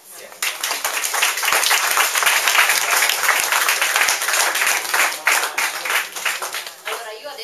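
Audience applause at an art exhibition opening in a gallery, a crowd clapping steadily and loudly close by, a sustained dense patter that swells briefly and then tapers, with voices talking over it.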